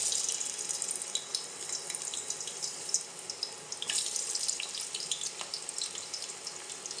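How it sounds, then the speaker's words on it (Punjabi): Peeled, washed potatoes fry in hot oil for matar aloo, a steady dense crackling hiss running without pause, close and fairly loud, with scattered sharper pops and no talk. "ਹੁਣ ਇਹਨਾਂ ਨੂੰ ਆਪਾਂ ਤੇਲ ਦੇ ਵਿੱਚ ਫਰਾਈ ਕਰ ਲੈਂਦੇ ਹਾਂ"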